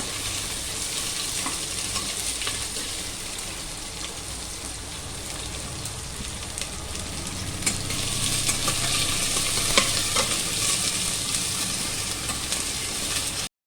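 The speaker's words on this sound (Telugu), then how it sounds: "ఫ్రై అయిపోయి తర్వాత 3 పచ్చిమిర్చి, ఉల్లిపాయలు వేసుకుంటున్నాను." Green chillies and onions frying in oil in a pan for vegetable biryani, a steady close broadband sizzle with crackling spits throughout, growing a little louder in the second half, with no talking.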